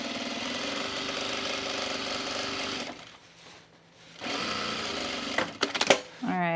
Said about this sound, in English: I'm just gonna stitch it down.